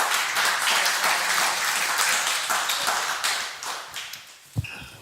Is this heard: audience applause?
yes